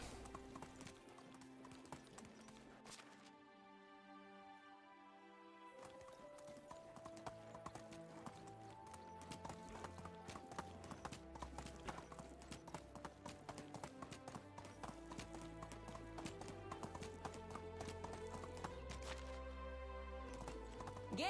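Horse hooves gallop in a steady clip-clop rhythm through the medieval survival game Medieval Dynasty, with an occasional whinny, all layered under continuous game music.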